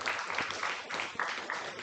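Clapping from an audience at a weekend family Buddhist service, a steady patter of hands in soft rhythmic swells across the short stretch, fairly faint with nothing else over it.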